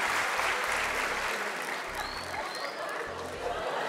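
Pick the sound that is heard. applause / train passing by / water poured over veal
applause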